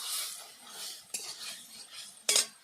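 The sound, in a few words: stirring and sautéing red amaranth greens in a pan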